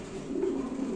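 A Helicopter breed pigeon coos in one short, low, throaty rolling call, close and fairly soft, heard alone.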